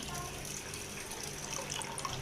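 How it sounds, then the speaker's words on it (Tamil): Water poured from a vessel into a pan of rasam with tamarind, tomato and salt, a steady, close splashing trickle holding at an even level for about two seconds. "தண்ணி ஊற்றிக்கலாம்"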